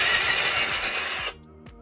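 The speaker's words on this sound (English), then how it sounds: "we are going to drill our hole and then do our tap" A power drill bores a hole in a plastic lid for a half-inch pipe thread, a loud whirring burst that cuts off abruptly and leaves a faint clatter.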